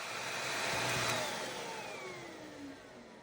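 A Dibea handheld bed and mattress vacuum cleaner with 15KPa suction runs steadily, giving a loud, close, continuous motor whine and airflow roar with slowly shifting pitch and no voices.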